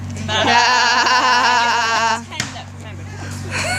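A sheep's wavering, drawn-out bleat plays loud and clear in a company jingle on a radio show, over a steady low hum, followed by brief talking.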